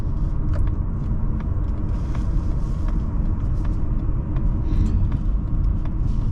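A 2024 Mazda CX-30 Turbo Premium on the move, its engine a steady low rumble blended with road and cabin noise, heard from inside the car at light throttle, constant and fairly loud.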